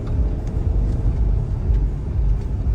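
A Porsche Cayenne S engine revving gently in first gear on sand, a steady low rumble close by with no talk over it.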